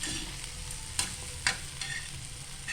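Potato slices frying in a pan, a soft continuous sizzle with two sharp clicks from a spatula turning them, close but fairly quiet, no voices.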